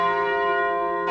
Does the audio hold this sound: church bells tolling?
yes